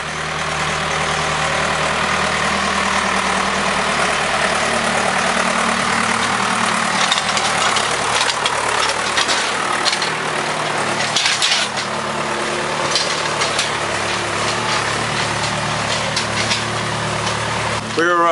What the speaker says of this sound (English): we have a tractor coming